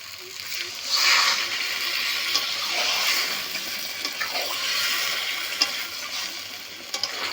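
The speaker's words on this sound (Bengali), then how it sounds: "খুব বেশি জল দেব না, অল্প করেই জল দিয়ে দেবো।" Water goes into a cooking pan with ongoing sizzling and bubbling, a close, continuous hissing wash marked by a few small clinks and splashes.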